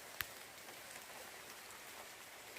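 Outdoor rain falls as a steady, even hiss with no talking, broken by one brief sharp tick near the start.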